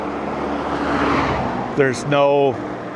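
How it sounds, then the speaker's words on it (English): Car passes on a winding country road, a rising and fading engine rush, followed by a brief voice, then a near vehicle swish with tonal engine hum. "A little bit of traffic here and there."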